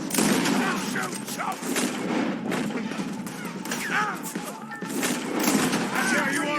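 Heavy gunfire erupts in Red Dead Redemption 2 during a wagon shootout, with rapid overlapping shots and thuds throughout while people shout over the fire.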